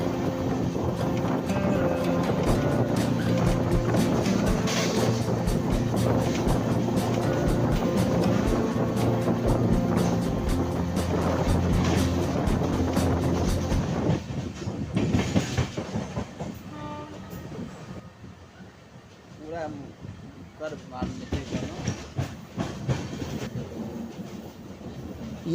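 The Bhagalpur–Jaynagar Express (15553) rolls through Darbhanga district as it gathers speed, with a loud continuous rumble and rhythmic wheel clatter heard from on board. Later the noise drops to a lighter rattle with scattered clanks.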